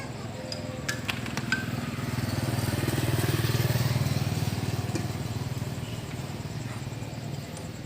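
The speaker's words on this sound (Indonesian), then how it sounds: "mesin remer atau mesin potong" A manual reaming and cutting machine bores a motorcycle engine cylinder block, giving a steady grinding whir with a fast repetitive ticking texture that swells in the middle, with a few sharp metallic clicks near the start.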